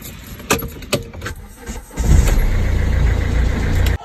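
A car engine starts after a few clicks and key jangles, catches with a loud crank, and then settles into a steady, close idle that cuts off abruptly near the end.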